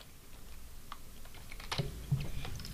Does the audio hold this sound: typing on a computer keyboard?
yes